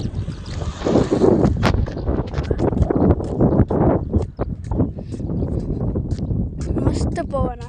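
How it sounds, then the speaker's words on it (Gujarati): Strong outdoor wind buffets and roars against the microphone in a steady, loud rush, with people talking over it throughout. "મસ્ત પવન આવે છે જો વાળ ઉડી ગયા"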